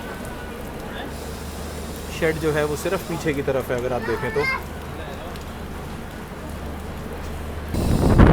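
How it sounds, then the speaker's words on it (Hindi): Steady rain falls at an open, unsheltered railway platform during an Amritsar Shatabdi journey, a constant wash throughout while someone talks over it, with a brief louder rush near the end. "कंटिन्यू बारिश चल रही है और इस तरफ शेड भी नहीं है।"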